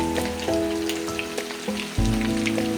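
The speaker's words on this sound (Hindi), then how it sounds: "ये देखिए हमने ऑयल को अच्छे से गर्म कर लिया था। अब हमने अपने चपली कबाब इसमें शामिल कर दिए हैं।" Chapli kebabs dropped into hot oil, a close crackling sizzle that jumps louder partway through, with faint clinks from the pan and no talking.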